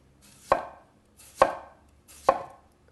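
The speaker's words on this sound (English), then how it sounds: "So I just want to do some red onion rings here" A knife slicing a red onion into rings on a chopping board, three crisp, evenly spaced cuts that each land with a firm thud, close and clear against near silence.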